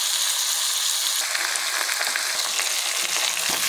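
Ginger garlic paste fries in a pan with a steady, loud hiss and sizzle throughout, broken by a few faint stirring scrapes and no talk.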